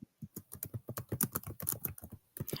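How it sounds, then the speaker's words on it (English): Rapid typing on a computer keyboard, a dense run of sharp clicks and key taps at close range with brief pauses, heard alone. "I was just typing my question down there"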